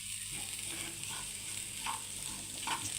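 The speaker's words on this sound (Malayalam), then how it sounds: "ഉപ്പൂടിട്ട് നമുക്കിവിടെ ഇളക്കാം." Green brinjal being stirred with salt in a small pan, a soft steady sizzle beneath a few light scraping strokes of the spoon, fairly faint and close.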